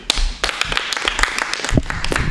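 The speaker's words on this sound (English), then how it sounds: "Big round of applause for Stephen Ty, ladies and gentlemen" Stand-up comedy audience at a geek-themed show claps loudly for a returning comedian, dense close applause with sharp individual claps and a few whoops.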